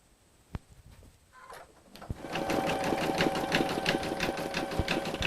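An embroidery machine stitches a design onto a cosmetic bag. A few soft clicks come first, then a steady, busy, rhythmic needle clatter builds and runs close by without pause.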